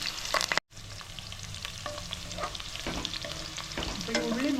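Okra frying with curry leaves in hot oil for a Kerala-style sambar, a steady close sizzle with stirring scrapes and clinks, briefly cut off near the start, no voices.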